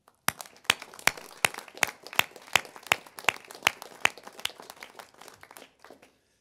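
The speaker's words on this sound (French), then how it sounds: "Je souhaite également que nous les applaudissions." At a 2021 New Year's greetings ceremony, a small audience claps in sparse, distinct strokes, about fifteen separate hand claps spread over several seconds in a steady, unhurried pattern before tapering off.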